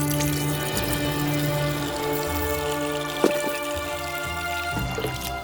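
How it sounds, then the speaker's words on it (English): Water runs steadily over diamond rock-polishing wheels, a continuous wet wash with a low machine hum beneath and a single sharp knock partway through, close and fairly loud with no voices. "The biggest thing is just making sure that there's plenty of water in there to keep the wheels cool."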